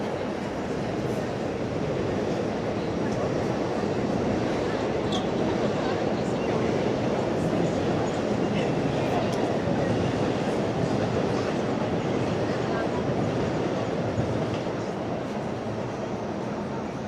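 Trains at Shinjuku railway station in Tokyo produce a continuous low rumble and rolling clatter, with a steady busy station hum that stays even throughout.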